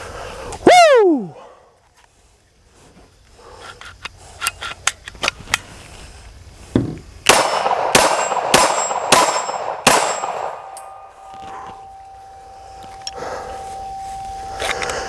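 Five pistol shots from a Hi Point JCP in .40 S&W ring out outdoors, each followed by a sharp metallic clang from steel targets, spaced about a second apart after an earlier whoop and scattered clanks.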